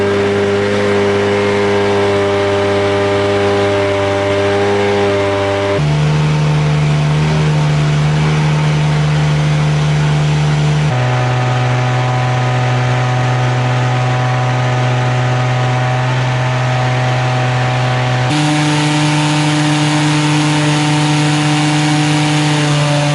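A Sonvia car engine revs repeatedly while being tuned after a fuel and TPS fix, holding steady strained tones in stepped blocks at several rpm levels, loud and close with no talk.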